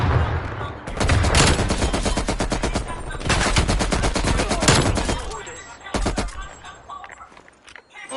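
Strafing-run gunfire in Black Ops Cold War multiplayer: long, loud bursts of rapid machine-gun fire in two extended volleys and a shorter one, with a brief voice underneath and quieter action trailing off at the end.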